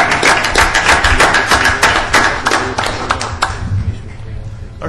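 Brief applause at a California Transportation Commission public meeting, a cluster of distinct hand claps that tapers off into quieter room sound.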